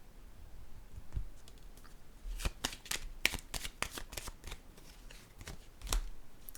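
Tarot cards being shuffled and drawn, soft riffling and a series of crisp flicks and snaps, fairly quiet and close, with no talk.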